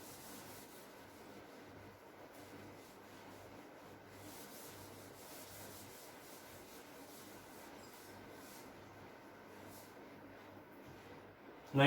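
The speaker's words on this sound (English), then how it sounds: "I'll rub this out" A board is rubbed clean of writing, giving a steady, soft, low scrubbing that runs without a break for about twelve seconds at low volume.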